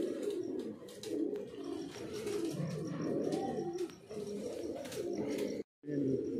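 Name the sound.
pigeons flying and cooing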